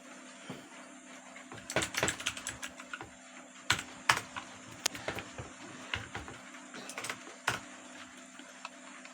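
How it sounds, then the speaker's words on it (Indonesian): Typing on a computer keyboard while writing code in a text editor: irregular bursts of close, crisp key clicks with short pauses between runs, over a faint steady hum. "Saya akan mengetik dulu"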